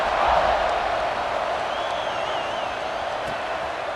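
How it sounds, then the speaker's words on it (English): A stadium crowd in an Alabama vs Ohio State college football video game buzzes as a steady, loud, close roar that fills the whole clip, with a faint whistle-like tone drifting through the middle. "this crowd is buzzing after that last score"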